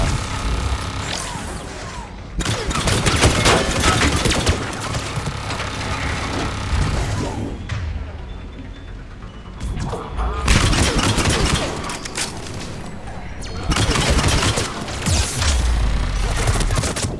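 Turret gunfire in the Mass Effect 3 video game, loud sustained bursts of automatic fire in three long volleys separated by brief lulls, with scattered crashes and mechanical clatter.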